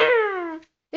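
A cartoon cat in a Mr Bean animation lets out one loud, drawn-out meow that slides downward in pitch, then cuts to silence before a short burst of noise.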